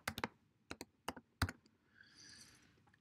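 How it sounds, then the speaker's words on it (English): Typing on a keyboard in a home recording setup on a Mac, heard as a few quick separate clicks near the start, then a short burst, then softer faint clatter fading at the end. "just type in there left"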